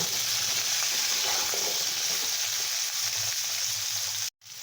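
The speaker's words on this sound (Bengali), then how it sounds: "বিনস পটল আমার সব সবজি কড়াইতে দেওয়া হয়ে গেছে এখন ভালো করে নাড়িয়ে চাড়িয়ে নেব" Carrot, drumstick, beans and pointed gourd fry in a wok for shukto. A steady, loud sizzle continues while they are stirred, with a short clean cut near the end. Nobody speaks.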